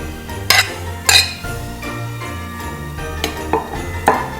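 A utensil stirs gougère dough with emmental and chorizo in a bowl, giving a handful of sharp, close clinks and knocks against the bowl at irregular intervals over a soft scraping background.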